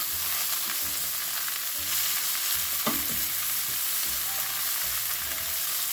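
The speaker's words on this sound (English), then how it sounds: "And now it's time to add this spinach." Fresh spinach sautéing with caramelized red onions in a pan, a steady close sizzle with a single sharp utensil knock partway through.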